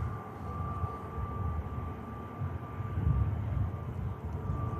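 A Brussels Airlines jet in Tintin livery taxis past at Manchester Airport, a steady low jet-engine rumble with a faint tonal whine, moderately distant and continuous.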